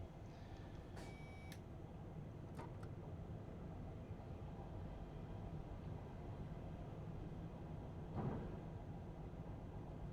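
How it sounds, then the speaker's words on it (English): A Railjet train accelerates at full power on the Nordbahn route from Wien Hbf toward Břeclav in Train Simulator Classic, heard as a steady, dense low rumble with a few brief higher clicks and a swell near the end. "Full power, fully open the throttles."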